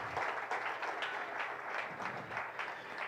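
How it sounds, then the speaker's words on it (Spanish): Church congregation claps together in a short, steady burst of applause, a soft, even patter of many hands heard at a moderate distance with no speech over it. "a la palabra de Dios le damos un fuerte aplauso"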